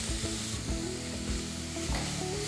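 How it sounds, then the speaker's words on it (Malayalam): About 250 grams of chopped onions for fish cutlets sizzle steadily in a hot pan while being stirred. The frying stays close and constant, with faint scraping from the stirring and no talk. "ഇനി നന്നായിട്ട് വഴറ്റിയെടുക്കുക"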